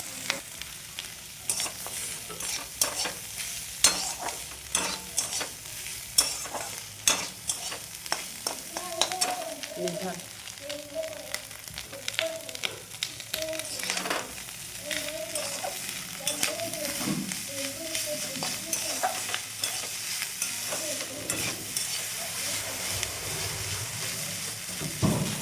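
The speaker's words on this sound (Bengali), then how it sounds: "আবার সব সবজি ডিম একসাথে দিয়ে দিলাম পেঁয়াজের ওপরে।" Vegetables and egg fry over onions in a pan, with a soft steady sizzle under frequent scraping stir strokes, and a voice speaks intermittently in the background.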